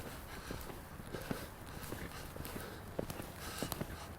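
Horse hooves clip-clop in an irregular walking rhythm, soft scattered knocks over low background noise, close but fairly quiet.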